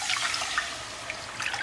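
Water runs into a cooking pot for semolina, a steady hissing, splashing pour that continues throughout at moderate volume, with no voices.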